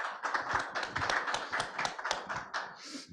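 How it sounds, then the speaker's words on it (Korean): Audience applause at a Korean education showcase and talk concert, honouring a university professor's presentation; a dense, steady patter of many hands clapping close by for about three seconds. "큰 박수 부탁드리겠습니다."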